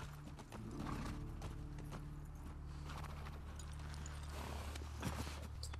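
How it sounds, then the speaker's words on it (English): Horse hooves clip-clop steadily on the ground in the video game The Last of Us Part II, an even walking rhythm close by, with a faint whinny and game ambience underneath. "Right, so our horse's name Shimmer"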